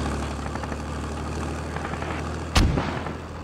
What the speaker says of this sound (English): Mortar just landed north